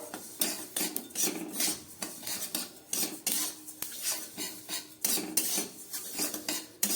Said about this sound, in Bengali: অনবরত নাড়তে হবে একটা শব্দ হচ্ছে ফোটার মতো